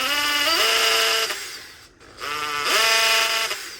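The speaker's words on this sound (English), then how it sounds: "we're going to drill 4 holes in this pipe" An electric drill boring holes in a pipe whines up to speed and runs, pauses briefly, then spins up and runs again, loud and close.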